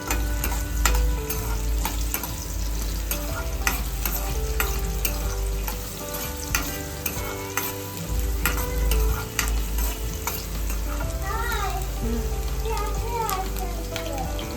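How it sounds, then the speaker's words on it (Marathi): Finely chopped onion sautéing in a pan for a prawn curry, with a loud, continuous sizzle and repeated stirring scrapes and clinks close by throughout. "एक बारीक चिरलेला कांदा आपण टाकणार आहे त्याच्यामध्ये. थोडासा परतून घेऊया आपण."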